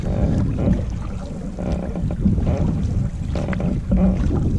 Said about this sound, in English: we've got the wind at our back now. Some choppy seas.